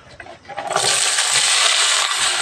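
Potato pieces dropped into a hot wok of oil, a clattering drop followed by a loud, continuous bright sizzle that holds steady close by.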